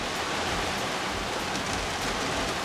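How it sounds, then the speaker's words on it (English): Driving rain, coming in sideways, pounds on the roof of an expedition vehicle, a dense, steady, loud hiss of drops with no letup and no voices. "And this is a driving rain."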